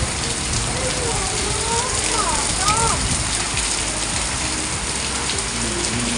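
Torrential morning rain pours down in Noorpur, Bijnor, India, a loud, unbroken hiss of drops striking surfaces, with faint voices rising briefly beneath the downpour.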